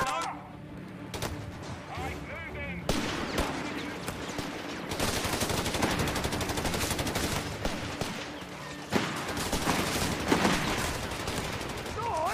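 Sustained bursts of automatic machine gun fire in a Company of Heroes battle, rattling loudly and continuously across the whole stretch with sharper volleys near the end, mixed with game sound effects and shouted unit voices.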